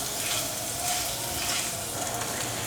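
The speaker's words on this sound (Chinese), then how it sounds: "把姜末炒香" Minced ginger sizzles and crackles in hot oil in a pan, a steady, dense frying hiss with the faint scrape of stirring, close and continuous with no talk.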